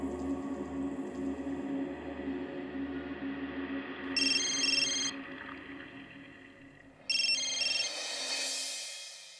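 A telephone rings during a call in a Turkish-dubbed drama, two bursts of a high electronic ringtone cutting in over a low musical background, the second burst louder and longer.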